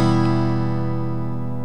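A guitar chord strummed so the open strings ring out together, sustaining steadily and slowly fading on its own with no other sounds.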